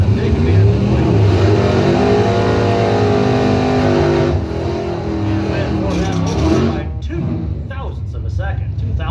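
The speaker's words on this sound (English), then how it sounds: "Brad Haste, Mopar, 62 dial, taking off the 26 tree, 118" A Mopar drag race car launches off the starting tree at a bracket racing event, its engine roaring loudly then fading into the distance while an announcer talks over it.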